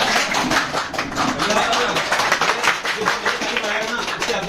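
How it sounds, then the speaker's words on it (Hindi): A classroom of students stands and claps together for their electronics teacher, a dense, steady patter of many hands under some voices. "एक बार खड़े हो जाके एलडी सर के जोड़ा ताली बजाएं।"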